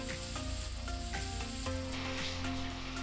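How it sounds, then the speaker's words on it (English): A nitrogen plastic welder with generator melts plastic at a repair, producing a close, continuous sizzling hiss with faint scraping. It runs alone with no voices over it. "Now let's start welding."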